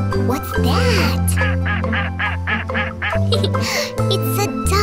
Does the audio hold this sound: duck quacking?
yes